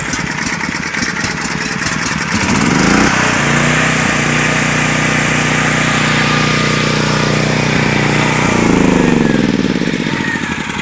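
Sportsman 7000 portable generator engine cranking on electric start, then catching and running with a steady loud mid-pitched drone that rises briefly near the end; no talk.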